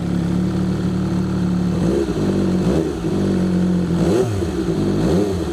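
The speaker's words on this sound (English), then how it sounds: "This is a really loud bike." An MV Agusta F3 800 three-cylinder motorcycle engine revs loudly and close on a ride, swelling and dropping repeatedly in quick throttle blips over a steady drone.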